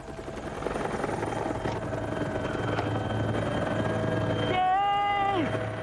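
A rescue helicopter hovers over the open ocean over a moving vessel, giving a steady, loud rotor thrum with a whining turbine tone that rises and sweeps near the end.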